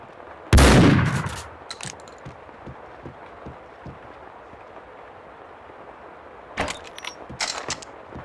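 A shotgun blast in the video game Max Payne 2, one loud close boom with a short tail, then quiet mechanical clicks and racking sounds spread over the following seconds.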